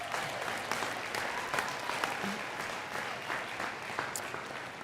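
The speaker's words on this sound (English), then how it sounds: "you can clap for that if you'd like" Audience applause at the University of Pennsylvania commencement ceremony, a broad, steady wash of clapping from a large crowd, fairly distant and even throughout with no voices on top.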